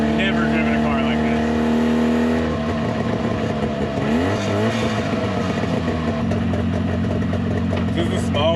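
A classic 1970 Subaru van's small engine drones loudly and steadily while driving, with pitch shifting as it changes speed, and voices talk over it throughout.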